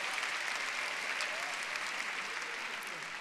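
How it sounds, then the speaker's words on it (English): Women in a convocation audience at Liberty University applaud steadily, a dense, even wash of clapping that holds at a constant level throughout with no breaks. "How come it's just ladies clapping right now?"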